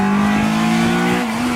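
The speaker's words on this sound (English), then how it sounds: "that VTEC engine needs to rev and rev" A 2016 Honda Civic Type R's VTEC engine revs hard and steadily on the Hungaroring circuit, a loud, sustained high-pitched drone that holds its pitch, dips briefly near the end and then climbs again.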